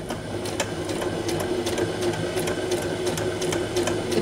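A sewing machine stitches through felt at a steady, fast pace, its needle giving a continuous rapid mechanical chatter over a constant motor hum, close and loud without any talking.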